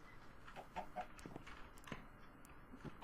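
Soft clucks from chickens in a video game, a few scattered short calls over quiet background.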